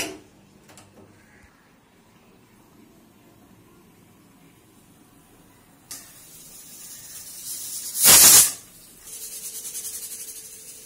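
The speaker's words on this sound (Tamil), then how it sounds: "குக்கர் மூடி போட்டு 2 விசில் விட்டீங்கன்னா கரெக்டாக இருக்குங்க" A pressure cooker of wheat upma on the stove whistles once: a loud, bright burst of escaping steam cuts through a quiet kitchen, followed by a softer steady hiss.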